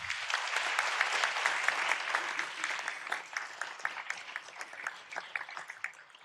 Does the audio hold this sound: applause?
yes